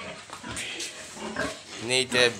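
Sows and piglets on a pig farm grunt and oink in a busy, close cluster of overlapping calls, with louder bursts toward the end and someone talking over them.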